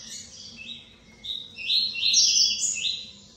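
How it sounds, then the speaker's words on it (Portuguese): A male coleiro baiano (papa-capim) sings to call a missing female, giving a bright, close, high-pitched run of chirps and trills that swells louder toward the end over a faint background. "Tirou a fêmea dele, ele vai cantar para atrair a fêmea."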